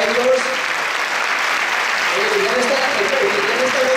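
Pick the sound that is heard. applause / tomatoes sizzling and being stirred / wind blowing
applause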